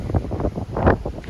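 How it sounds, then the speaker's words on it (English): Steady wind buffeting a microphone on a fast-moving ferry deck at sea, with a low rumbling roar and gusty bursts throughout. "Obviously windy up here, going pretty fast."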